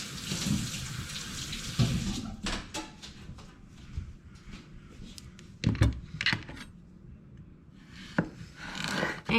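Running tap water hisses briefly as zucchini is rinsed, then gives way to knocks, clinks and handling noises on a kitchen counter, close and fairly quiet.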